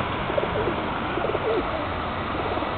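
Pigeons cooing close by outdoors at the Vatican, soft repeated low coos over steady background noise of a busy square.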